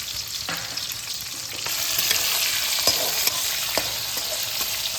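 Capsicum cubes fry in hot oil on high flame, a bright continuous sizzle that swells partway through, with scattered knocks of a spatula and no voices.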